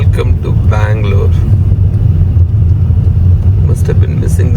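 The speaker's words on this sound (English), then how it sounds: "Must have been missing the traffic for last 1 week." Busy city road traffic in Bangalore, a loud continuous engine rumble from passing vehicles heard from inside a moving vehicle, with a voice talking over it and brief horn-like tones.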